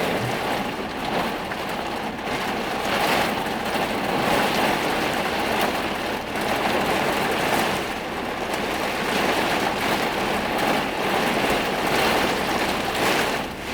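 Rain falls outdoors as a dense, loud, continuous hiss that keeps up steadily throughout, with no one speaking.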